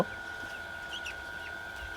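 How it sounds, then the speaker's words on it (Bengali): Chickens in a small poultry shed holding about 1100 birds cluck and chirp faintly and intermittently over a steady background hum, with no talking. "এই শেডে মুরগি আছে হচ্ছে ১১০০ পিস মুরগি।"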